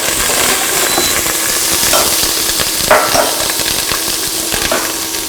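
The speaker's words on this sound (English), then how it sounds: "So that's ginger garlic done. I'm just going to mix that a bit." Crushed ginger and garlic sizzling in hot oil for a tamarind curry with brinjal, stirred with a spoon; steady crackling fry with a few scraping stir strokes, close and continuous, with no talk.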